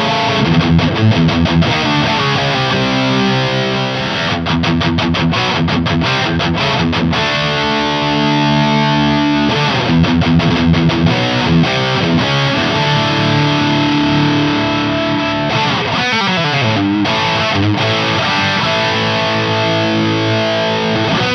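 A heavily overdriven electric guitar at full gain through an Amptweaker TightDrive Pro overdrive pedal, chugging palm-muted rhythm riffs with tight, choppy low notes and a few sustained chords, loud and continuous.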